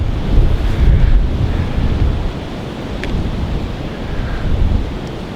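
Strong wind buffets the microphone at dusk on the Warwickshire Avon riverbank in a steady low roar, gusting louder and softer throughout, with no voices.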